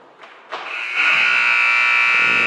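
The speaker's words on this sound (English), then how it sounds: "And there's the buzzer ending today's game." The game-ending buzzer at an 18U ice hockey game sounds loud and sustained after a couple of short bumps, a steady electronic drone that fills the rink and holds to the end.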